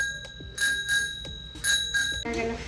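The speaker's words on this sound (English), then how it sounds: "Alright, so there is the bell." Bell on a new bicycle rung in quick bright dings, about five rings in a row, close to the microphone with some handling noise at the end.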